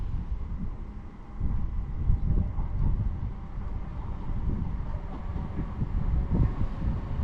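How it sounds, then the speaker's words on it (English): A ScotRail passenger train, unit 170-402, rumbles into Edinburgh station with a low, steady mechanical roar and some wind buffeting, continuous and fairly loud throughout. "arriving now is the 13:30 ScotRail service to Perth from Edinburgh"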